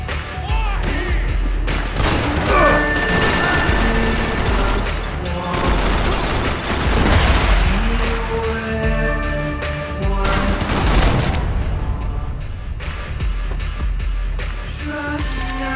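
Grenade explosions and gunfire erupt in the Max Payne 3 airport shootout, heavy booms and rattling shots packed densely and loud throughout, with voices calling out amid the fighting.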